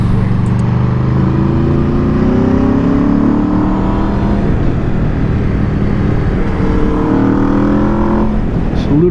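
A 2022 Aprilia RSV4 Factory motorcycle rides hard along a bumpy mountain road, its engine note rising and falling steadily through gear changes, loud and close under constant wind rush.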